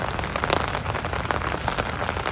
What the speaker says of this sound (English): If you can hear the rain hitting the umbrella